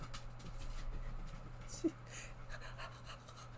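A dog pants in quick, soft rhythmic breaths nearby, fairly quiet, with a low steady hum in the background.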